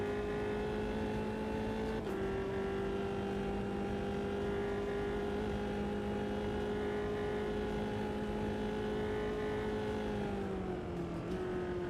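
A Formula 3 race car engine in the racing game Automobilista 2 drones at a steady high pitch, shifting briefly near the start and dipping toward the end, loud and continuous with no speech.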